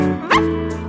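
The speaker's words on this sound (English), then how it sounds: "Doggy, doggy." A dog gives a single short, close, loud yip or bark that rises sharply out of a sustained tonal background of music or singing, all within under a second.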